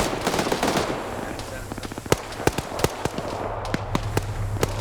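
240 machine guns fire in a video game firefight as sharp, loud bursts of single cracks and short strings of shots, some close and some distant, with a voice talking over the action.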